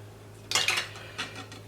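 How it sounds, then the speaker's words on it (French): A spoon scrapes inside a scallop shell, scooping out the meat and coral in two short, close scratchy strokes against faint background hum. "Je vais prendre ensuite une cuillère"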